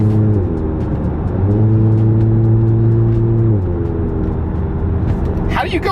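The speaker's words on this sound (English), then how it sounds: "This one sounds pretty good." Volkswagen GTI engine pulling hard inside the cabin, a loud steady drone rising in pitch, dropping at a shift, then climbing again, with occasional clicks and a brief voice near the end.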